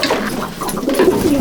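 Pigeons of Andhra and Malwai breeds cooing in a straw-thatched loft, several soft throaty coos overlapping close by, loud and continuous with no talk.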